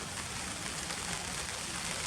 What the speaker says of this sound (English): I think now the rain's arrived